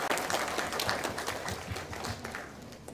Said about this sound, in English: Let's give another round of applause for a wonderful performance so far.